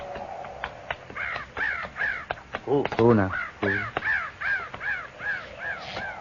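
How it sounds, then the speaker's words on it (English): Crows caw repeatedly from the trees along a canyon at sunset, a series of harsh calls, moderately near and fairly loud, mixed with a man's brief speech. "Those crows ain't flying. Figure they're sitting in the trees waiting for a handout."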